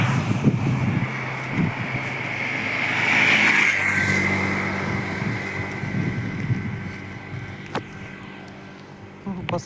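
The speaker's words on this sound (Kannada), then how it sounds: "ಬೈಕ್ ರಣ ವೇಗದಲ್ಲಿ ಬರ್ತಾ ಇದೆ" A motorbike speeds along the Mangaluru–Bengaluru highway at dusk, its engine note rising then fading as it passes close by, over steady road rumble and wind noise.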